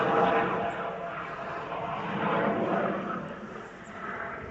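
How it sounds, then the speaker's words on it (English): A helicopter flies overhead outdoors near a rose garden, a steady distant engine drone that swells and fades across the stretch, alone without speech. "Yes, helicopter."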